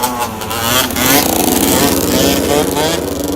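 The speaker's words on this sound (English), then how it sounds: "They're doing wheelies." Several motorcycles revving hard as riders pull wheelies on a street in Lower Manhattan near the Brooklyn Bridge; a loud, continuous engine roar rises and falls, with a voice talking over the traffic noise.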